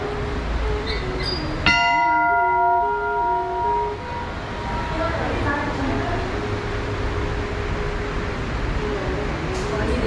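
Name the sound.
bell ringing in Tapkeshwar temple cave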